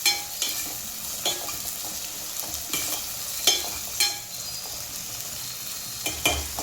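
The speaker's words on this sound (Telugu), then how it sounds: "టమాటాలు కూడా తాలింపులోనే వేసుకోవాలి." Tomatoes frying and sizzling in hot oil for a chicken liver fry, with steady sizzle broken by repeated stirring scrapes and light utensil clinks throughout, no voices.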